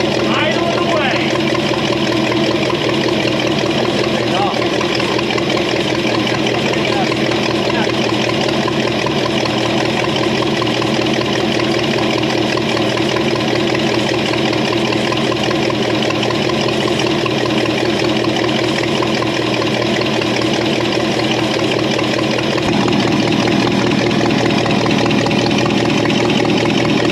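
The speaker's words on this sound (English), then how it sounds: "Idling away." A rough engine of an old Buick Electra 225, parked since 1982, idles steadily up close, a constant mechanical drone with a slight uneven chug, its exhaust leaking badly, and a brief shift in tone near the end.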